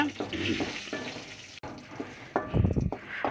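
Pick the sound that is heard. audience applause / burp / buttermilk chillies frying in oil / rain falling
buttermilk chillies frying in oil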